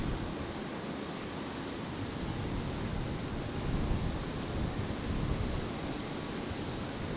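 A Jetstar Airbus A321neo arriving from Sydney onto runway 01 right at Brisbane on a stormy night gives a continuous broad engine roar that peaks gently midway, with no voices.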